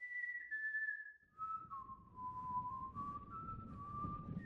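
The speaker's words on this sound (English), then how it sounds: "who the hell's whistling?" A single person whistles a slow, wavering melody in Game of Thrones by Telltale, clear and alone at first, then continuing over a low rumbling background.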